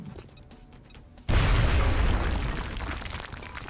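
An explosion in XCOM: Enemy Within blasting apart cover, with a sudden loud boom after a quieter lead-in, followed by a sustained rumbling roar of debris that slowly fades.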